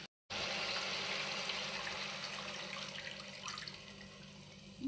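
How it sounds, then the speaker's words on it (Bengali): Water pours steadily into a pan of fried onion, garlic, ginger and green chilli paste with turmeric, a continuous close gushing splash after a brief silent start. "এবার জল দিয়ে দিলাম"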